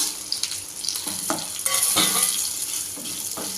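Ingredients for a Malabar spinach (bachali kura) chutney fry in a pan, with a steady crackling sizzle broken by scraping stirs and a few sharper clicks from the spoon against the metal.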